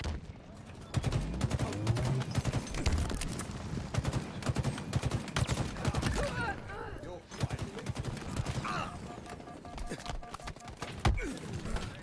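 Battle rifle fire in the video game Halo Infinite, with rapid bursts of sharp shots cracking out over game ambience and a player's voice talking.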